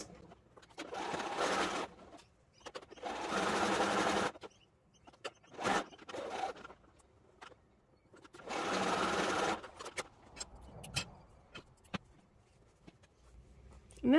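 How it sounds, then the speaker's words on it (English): Sewing machine chain piecing quilt block pieces with a 1/4 inch seam allowance, running in several loud bursts of steady stitching separated by pauses and quiet handling, with no talk. "we're going to quickly chain piece those through using a 1/4 inch seam allowance"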